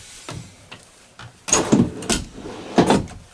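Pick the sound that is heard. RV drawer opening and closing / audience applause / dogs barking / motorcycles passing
RV drawer opening and closing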